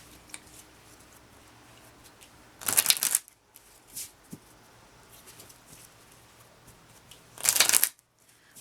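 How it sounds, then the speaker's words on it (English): Angel cards are shuffled in two brisk riffling bursts, close and crisp, with a few soft taps and handling noises in the quiet between them. "I'm going to pull an angel card."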